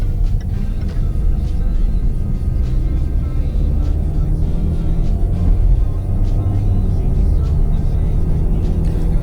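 A 2020 Range Rover Evoque climbing an incline with tight turns, its engine a steady loud rumble heard from inside the cabin, with faint ticks and road noise.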